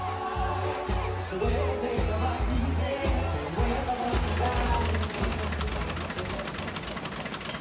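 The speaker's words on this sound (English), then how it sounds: "That's the sound of the historic press in the Vineyard Gazette offices in Edgartown printing the paper." Rhythmic mechanical thumping and clattering of a historic printing press steadily printing a newspaper in the Vineyard Gazette offices in Edgartown, with a busy room hum around it.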